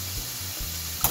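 Chicken frying in a pan, a steady bright sizzle with short scraping stirs repeating in a quick rhythm, close and alone.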